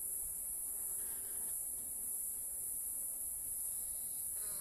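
Honey bees hum densely inside an open hive around their queen. The buzzing is a steady, close drone that carries through the whole moment without any talking.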